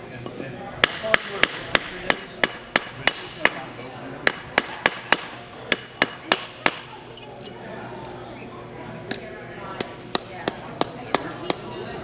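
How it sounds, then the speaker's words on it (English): A rawhide mallet taps a metal ring on a mandrel resting on a wooden stump, giving a close run of sharp, evenly spaced knocks in bursts, with brief pauses and faint ringing after each strike. "with the stump being wood and this being rawhide, the ring can be shaped without damaging the ring."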